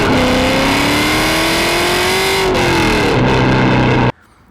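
A built LS-swapped BMW E36 V8 revs hard at high RPM, a loud sustained engine howl whose pitch climbs, dips briefly, then holds before abruptly cutting off.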